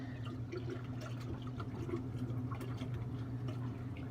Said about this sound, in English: you want to give it a really good stir now that we've got all the water and the wort all mixed together